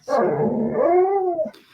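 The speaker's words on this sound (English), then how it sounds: "my dog is complaining over here" A dog whining and complaining indoors with a drawn-out, wavering howl-like vocalization lasting over a second, close and loud, with no talking.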